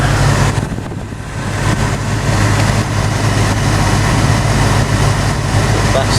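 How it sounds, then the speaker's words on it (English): 1985 Ford Fairmont wagon engine idling nearby, a steady low hum and drone that dips briefly then holds even, with faint voices underneath. "Let's see what it is sitting here idling now."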